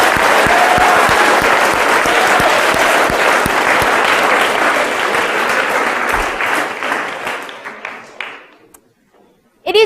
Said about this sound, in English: let's give a round of applause for Alicia and Liz